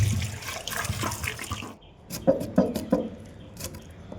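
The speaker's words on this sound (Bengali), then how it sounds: "তারপরে জলে ভালো করে ধুয়ে নেব" Cut jackfruit pieces being washed in water, a running splashing wash that thins out, followed by several close sloshes and handling knocks in a bowl.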